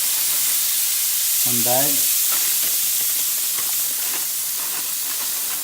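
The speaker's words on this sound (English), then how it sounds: "Okay, I got our pan hot. Now I'm gonna fry some corn." Corn fries in a hot pan with a steady broadband sizzle and crackle from start to finish, loud and close, while a voice speaks briefly early on.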